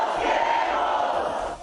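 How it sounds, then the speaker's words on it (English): Protest crowd gathered in solidarity with the families of the disappeared Ayotzinapa students in Mexico, a dense, continuous roar of many voices shouting together at steady loudness, easing off slightly at the end. "This crowd expresses its solidarity with the families of the disappeared Ayotzinapa students."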